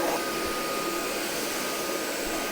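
A JIMMY PW11 Pro Max wet vacuum cleaner runs at home with a steady, broadband whooshing drone. The hum is constant and unbroken, with no talking over it.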